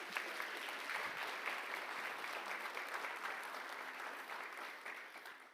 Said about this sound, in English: So a big round of applause for Jane.